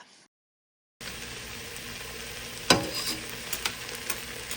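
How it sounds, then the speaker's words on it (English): Garlic simmering in olive oil for a minestrone soup makes a steady soft sizzle that starts after a brief silence, with a few light clicks and pops over the bubbling. "She simmered it together with olive oil"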